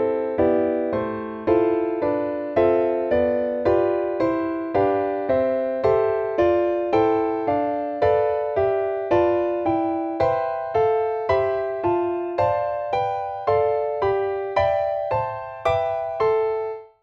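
Jazz guitar plays a sequence of chord voicings through the Barry Harris 6th diminished scale, roughly twenty evenly spaced chords struck one after another, each ringing briefly before the next, clear and alone.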